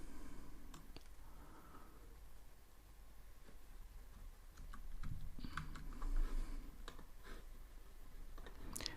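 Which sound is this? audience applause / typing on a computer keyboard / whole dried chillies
typing on a computer keyboard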